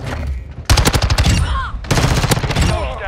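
Rapid bursts of MX9 submachine gun fire in Modern Warfare 2, two loud close strings of fast shots separated by a brief pause, with faint game effects between.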